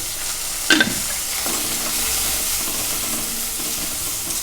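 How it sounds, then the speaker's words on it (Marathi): Chopped onion sautéing in a little oil in a wok, a continuous close sizzle with a brief louder clatter of stirring near the start. "कांदा असा ब्राऊन रेड कलर येसोपर्यंत परतायचा आहे अगदी कमी तेलामध्ये"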